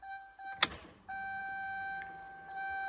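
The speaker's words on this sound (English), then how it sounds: "I'm going to turn the ignition on" The ignition is switched on in a car whose engine is seized. A sharp click is followed by steady electronic whines and tones, faint and up close, and no engine cranking is heard.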